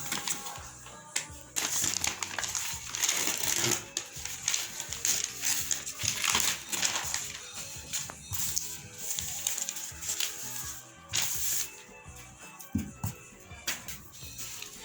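Paper being pulled off and crumpled from a lace-and-net flared bell sleeve pattern during sewing, giving steady crinkling and rustling bursts throughout, fairly close and continuous with no talk.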